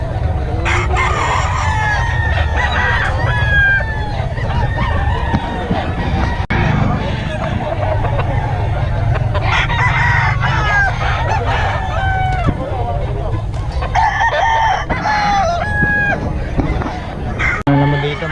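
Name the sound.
roosters crowing and chickens clucking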